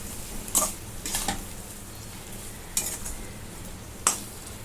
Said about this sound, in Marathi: आता हा सर्व मसाला मी टाकून घेते राहिलेला सर्व मिक्स करून घेते